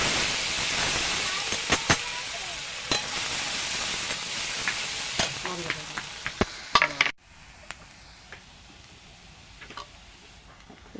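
Onion and garlic paste frying in hot oil for magur fish curry, a loud steady sizzle with crackles and stirring clicks that suddenly drops to a quieter hiss partway through.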